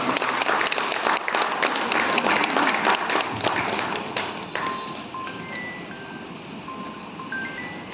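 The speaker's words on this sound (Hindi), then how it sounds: "एक बार जोरदार तालियां करो।" A room full of people claps enthusiastically at an award ceremony, the dense applause gradually thinning, while a faint melodic electronic tone plays in the background.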